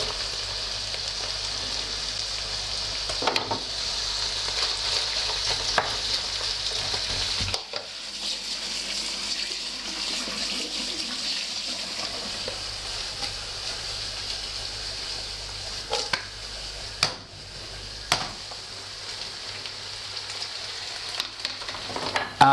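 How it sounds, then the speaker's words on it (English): Pork side chunks and chopped onion browning in butter in a sauté pan over medium heat give a steady close sizzle and fry, broken now and then by the clatter and scrape of stirring, with no talking. "Put butter in a sauté pan over medium heat and brown pork side chunks and chopped onion for approximately 5 minutes."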